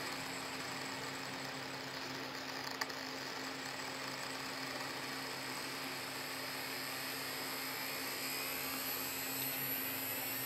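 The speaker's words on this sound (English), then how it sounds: "watched as the motor slowed and then began to spin" A small model train motor spins on an ESU 53900 decoder tester, a steady close whine with a low hum running continuously and evenly, no voices.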